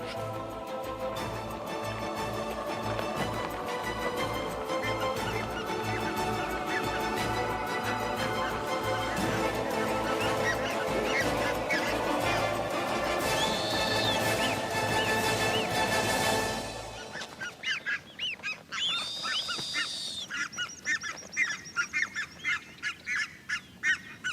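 A flock of geese honks loudly and continuously while chasing buffalo in a Chilean desert, with dense overlapping calls that later thin into sparser, separate honks near the end.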